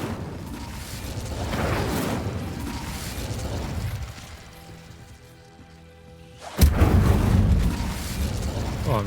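An Incendio fire spell is cast in Hogwarts Legacy, breaking out as a sudden loud whoosh of flame after quieter rumbling action and a spoken spell name.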